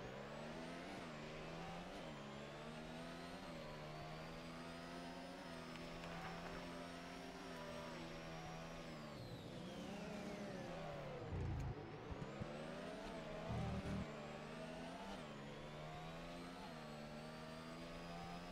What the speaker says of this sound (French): les bruits moteurs sont pas foufou